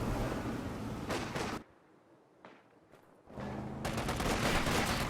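Bursts of heavy .50 cal machine gun fire in a World War II strategy video game, loud dense rattling volleys separated by a brief quieter gap with scattered shots.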